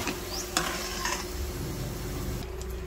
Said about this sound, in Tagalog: Ipiprito muna natin ating itong mga liyempong maliliit na hinihiwa-hiwa ko sa maliliit.